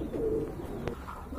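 Pigeons kept for sale coo in a loft, a close soft throaty coo followed by lower murmuring, with no voices.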